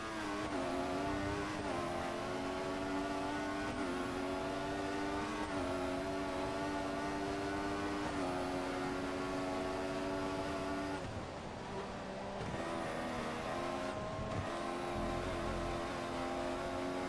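Race car engines in the F1 2014 video game drone loudly and continuously, with the pitch climbing and then dropping at each gear change and a brief dip around the middle. No one talks.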